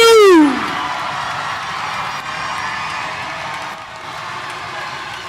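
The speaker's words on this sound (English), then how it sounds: "Round of applause, the class of 2022" Loud crowd applause and cheering fill a graduation ceremony for the Merrillville class of 2022, rising after a brief sliding whistle-like tone at the start and staying steady and dense throughout.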